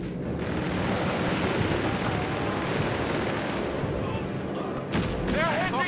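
Battle gunfire and explosive booms striking a Panzer tank in Company of Heroes 3, a dense, continuous rumble of shots with a sharper impact near the end, mixed with shouted voices.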